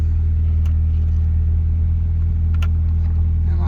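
A Honda Accord CB7 engine idles and pulls at low speed while the car is eased back into a parking spot, a loud, steady close rumble with faint brief rattles on top.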